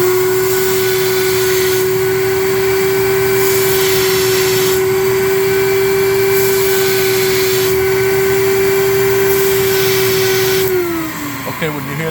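A VPI vacuum record cleaning machine spins a 1960s vinyl record with its motor and suction running, a loud steady whine and roar lasting about eleven seconds before winding down.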